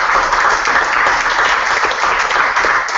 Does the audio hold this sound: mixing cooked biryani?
no